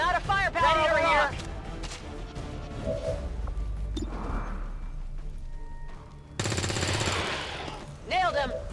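Gunfire in the video game XCOM 2, sustained bursts of shots mixed with crashes and impacts, with a voice talking over parts of the action and a loud noisy burst near the end.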